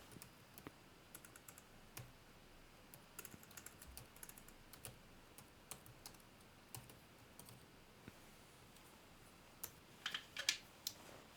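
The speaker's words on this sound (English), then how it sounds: "I'll just type it." Quiet keystrokes on a computer keyboard, irregular taps and short bursts of typing close up, with a faster flurry near the end and no talking.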